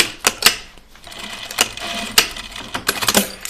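A sewing machine stitching a diagonal line on a backpack, short bursts of rapid mechanical chatter separated by pauses and clicks, close and fairly loud.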